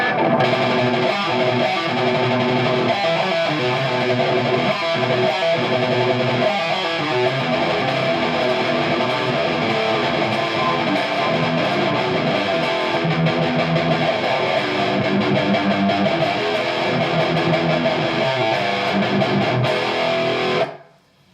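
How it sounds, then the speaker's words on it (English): A custom-built LP Custom electric guitar on its bridge Seymour Duncan Distortion pickup plays a sustained crunchy riff, bright and loud, ringing steadily before cutting off at the end. "So that's my guitar. So we'll go through some crunch sounds. So bridge, Seymour Duncan Distortion."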